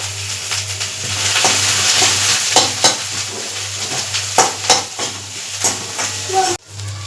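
Onions, ginger and garlic fry in a pan on a stove, a steady loud sizzle running throughout with repeated scraping and clinking as a spoon stirs them, before the sound cuts off abruptly near the end.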